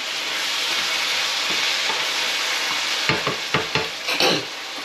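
Food for a balti curry frying in a pan, a steady close sizzle, then several sharp scraping strokes of a spoon stirring it around near the end.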